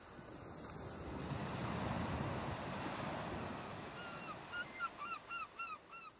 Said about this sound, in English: listened to the sound of the sea and watched the ships passing in the distance